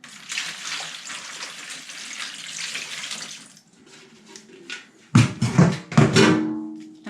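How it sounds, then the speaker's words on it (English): Water runs into the bottom tray of a seed-starting setup under grow lights: a steady pour for several seconds, then a brief gap, then louder splashing gushes near the end. "I will fill this bottom tray here with water."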